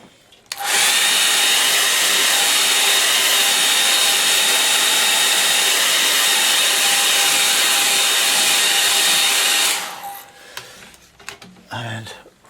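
A hair dryer blowing over a watercolour painting, a loud, steady whirring hum that starts abruptly and runs for about nine seconds before cutting off, followed by faint handling noises.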